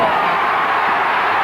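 A large stadium crowd roars in a steady, dense wall of cheering as Roscommon equalise, loud and continuous throughout without pause.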